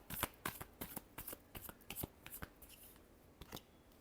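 Tarot cards riffled and shuffled by hand in a quiet room, producing a string of soft, crisp flicks and slaps at an uneven rhythm, close and fairly faint with no talking.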